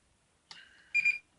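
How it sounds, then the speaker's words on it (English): An Acroprint guard tour scanner beeps twice as a checkpoint is read, a brief tone followed by a louder, longer beep, close and clear with no talk. "Once you hear that beep beep sound, it means that it has taken the name of the point and the date and time that you scanned that point."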